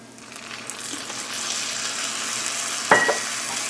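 Candied pecans with about half a teaspoon of vanilla are stirred in a pan over lowered heat. A steady frying hiss runs throughout, and a brief metallic clink of the utensil comes near the end, with no voices.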